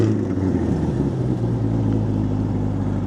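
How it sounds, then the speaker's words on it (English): Chevrolet Corvette C8 2LT V8 engine idling after a remote start from the key fob, a steady low rumble with a faint rough edge, close and continuous. "Now, this also has remote start, so you can use the key fob. Just lock the vehicle, double tap this. Let's bring that V8 to life."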